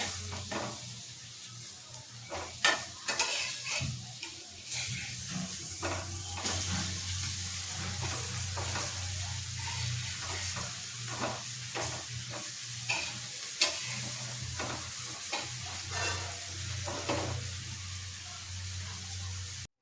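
Raw banana slices frying on a flat iron tawa, with a steady sizzle running throughout and intermittent scraping clicks as the slices are turned over, fairly close, no voices.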